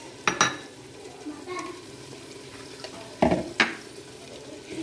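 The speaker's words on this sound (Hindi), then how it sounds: "इसको भी भुनेंगे दो से तीन मिनट तक।" Green peas being stirred into a spiced masala with potatoes in a pan, giving a few sharp spoon-and-pan scrapes and clatters over a soft, steady sizzle, close by.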